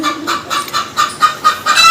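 A hen that has just laid an egg clucks close by in a quick run of rhythmic, pulsing clucks, loud and continuous with no talking.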